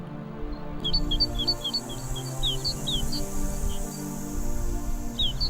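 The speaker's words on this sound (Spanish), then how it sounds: "Siempre están ahí sus trinos o sus graznidos." Short chirping bird calls repeat in quick bursts over a low, steady background hum, fairly close and clear.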